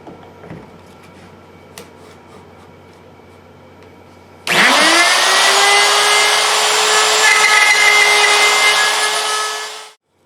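A router fitted with a guide bushing cuts a mortise in wood inside a jig while a phone stand is built. Faint shop rustling gives way to a sudden loud, steady, high whine that runs close for about five seconds, then cuts off.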